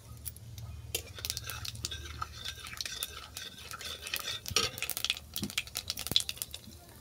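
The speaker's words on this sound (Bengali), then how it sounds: "এরপর এই ভাজা তেলের মধ্যেই দিয়ে দিলাম কালো জিরে।" Black cumin seeds drop into hot frying oil in a pan for a fish curry, giving soft sizzling with irregular scraping and clinking of a spoon stirring, fairly quiet and close.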